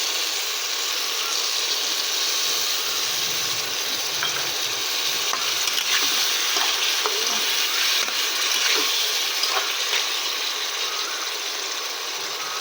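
Fish curry masala with potato and pointed gourd sizzles and bubbles steadily in a pan after water is added, a dense, continuous hiss close up with faint stirring clicks.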